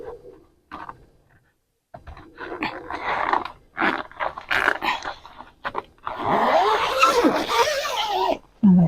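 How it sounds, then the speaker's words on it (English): A greenhouse zipper is pulled open in several short, rasping bursts at close range, with pauses between and a longer continuous zip near the end. "let's unzip"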